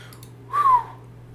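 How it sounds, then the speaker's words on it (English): A person whistles one short tune-like tone, rising slightly then gliding down, clear and close over a faint steady hum during a live stock-market stream. "I hope my whistle didn't mess you guys up."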